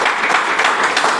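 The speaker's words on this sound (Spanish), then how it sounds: "Vamos a dar un fuerte aplauso a la palabra de Dios" A church congregation applauds steadily, a dense wash of clapping hands at moderate loudness with no speech over it.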